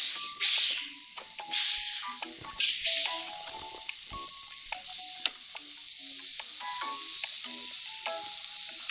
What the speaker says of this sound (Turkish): Şimdi ikisini de kızartalım.